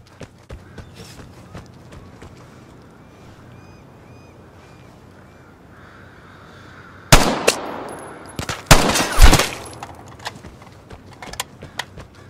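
Gunfire exchange in the video game Vigor: quiet ambience first, then a loud burst of rapid shots followed by a cluster of heavy reports and a few scattered later shots.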